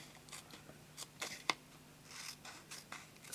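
Scissors cut card-making paper from a garden party paper pad, producing a few quiet, close snips and rustles with one sharper click midway.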